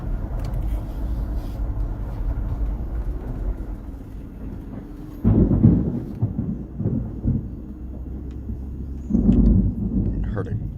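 Deep thunder rumbles through a tornado emergency storm in Huntsville, Alabama, heard from inside a vehicle as a low continuous roll with two louder booming swells, alongside a low road-vehicle rumble.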